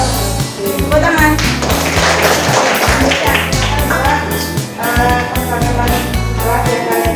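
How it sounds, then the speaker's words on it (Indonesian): A classroom of children claps hands together, a dense run of tapping claps layered under music and voices, loud and close throughout. "Tepuk tangan."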